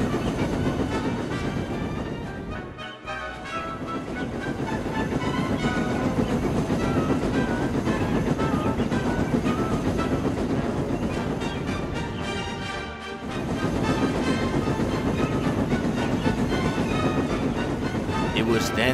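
A train rolls along the tracks in a long, continuous stretch of rumble and rhythmic clatter, loud and close throughout, with brief dips partway through.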